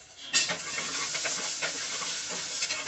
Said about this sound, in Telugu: ఇవన్నీ ఈ విధంగా కలుపుకుంటూ ఫ్రై చేసుకోవాలి